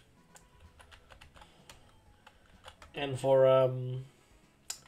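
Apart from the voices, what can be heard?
computer keyboard and mouse clicking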